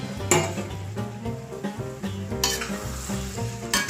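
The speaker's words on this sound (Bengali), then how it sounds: "এরপর তড়কার ডালটা আমার দিতে হবে, সিদ্ধ করা ডালটা।" Boiled dal poured into sizzling masala in a pan for a dhaba-style egg chicken tadka, then stirred: steady frying sizzle with stirring scrapes and a couple of sharp bursts, under background music.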